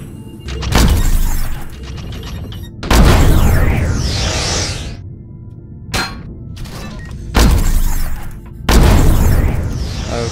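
A new rifle in the sci-fi survival game Empyrion Galactic Survival fires several loud, booming shots, each with a mechanical clank and a long metallic ringing tail, irregularly spaced across the clip.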